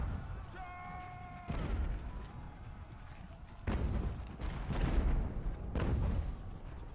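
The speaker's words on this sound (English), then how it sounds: "Cannons to the left of them." Cannon batteries fire in Ultimate General: American Revolution, several separate heavy booms spaced a second or two apart, each with a sharp crack and a rolling tail, over a quieter battlefield background.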